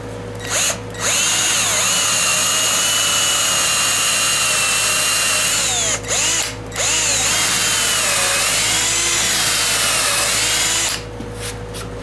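A power drill bores steadily through wood with a loud, sustained whine, stopping briefly about three times before starting up again, with no talking.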